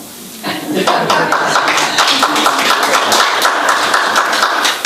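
Applause breaks out at a city homeless task force public meeting in Sonora, a dense, steady wash of clapping from a room of people that begins after a brief pause and carries on to the end.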